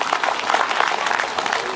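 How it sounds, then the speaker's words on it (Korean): Steady applause from an audience at a farming cooperative unity rally, filling the whole stretch at a loud, even level with a few faint voices mixed in. "박수 한번 쳐주세요."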